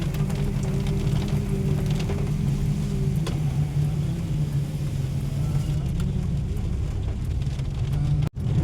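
Rain falls on a misty mountain road, a steady close hiss over the low rumble of a moving vehicle throughout, with no talking.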